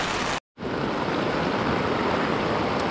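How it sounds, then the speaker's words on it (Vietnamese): A rain-swollen village stream in Quang Nam, central Vietnam, rushes in flood with a loud, continuous roar of churning water, broken only by a brief moment of silence near the start. "Đây là con suối ở quê nhà các bạn nha, chưa phải con sông nha, con suối mà to như thế này đó"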